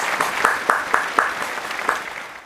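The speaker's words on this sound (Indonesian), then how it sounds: "Ayo, kita berikan aplaus untuk kelompok 2." Classroom applause for a student group after its presentation: a small crowd clapping in quick, uneven bursts of sharp claps, moderately loud and close, running steadily throughout.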